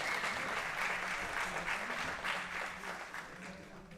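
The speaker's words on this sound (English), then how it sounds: "Give them a round of applause," Steady audience applause at a world classic powerlifting championship, sustained clapping that holds fairly level and fades slightly toward the end, with no speech over it.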